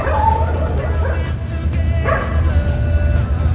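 Two dogs at feeding time, yipping, whimpering and giving short eager barks close by. The noises come in bursts over a steady background rumble and run through the whole stretch.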